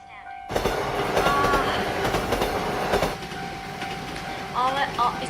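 An anime train running through a snowfall-delayed journey, a continuous rumbling roll with clattering wheels and faint high squeals, loud and steady, with a voice speaking over it.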